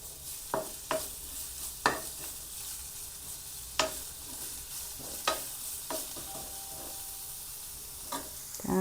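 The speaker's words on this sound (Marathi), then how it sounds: "त्यानंतर आलं लसूण मिरचीची पेस्ट पण हे आता परतून घेऊया।" Ginger, garlic and chilli paste sautéed with coarse coriander, cumin and fennel in hot oil, a soft sizzle punctuated by repeated sharp spoon knocks and scrapes against the pan at irregular intervals.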